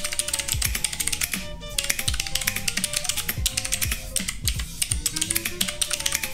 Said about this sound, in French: on va tester tout simplement le bruit du clavier tout simplement avec le bloc